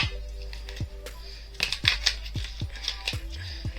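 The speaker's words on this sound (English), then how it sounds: "We split these up and shuffle." Tarot cards are shuffled by hand in a run of quick riffles and soft snaps at close range, a sequence of short crisp bursts with brief pauses between them.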